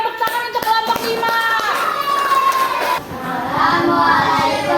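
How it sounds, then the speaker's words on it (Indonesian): A classroom group of students applauds for group 5, a brisk patter of clapping that runs under children's chatter and a teacher's voice. "Tepuk tangan untuk kelompok 5."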